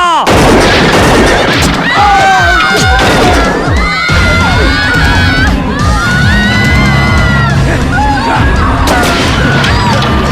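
Gunfire breaks out at a command to fire in a battle scene from a film about Birsa Munda's uprising against British rule, loud booming shots mixed with crowd shouting and cheering throughout.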